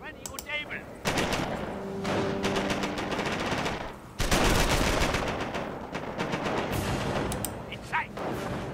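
Heavy gunfire in Company of Heroes: Tales of Valor, with dense bursts of machine-gun and rifle fire, two surges of sustained shooting and a low booming undertone, partly under voices.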